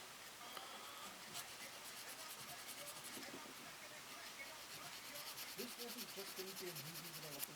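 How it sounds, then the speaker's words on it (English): A plastic part from a Bandai Yamato 2202 Andromeda Mecha Collection model kit is sanded by hand, giving steady, close, raspy rubbing strokes throughout, with a low voice murmuring briefly near the end. "Maybe if I sand down."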